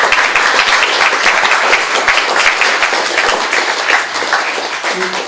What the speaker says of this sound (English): I'd like you to give John a round of applause